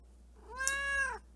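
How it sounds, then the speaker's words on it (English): A cat gives one clear, close meow rising and falling over about half a second, alone against a quiet background. "They say hi Max. Meow"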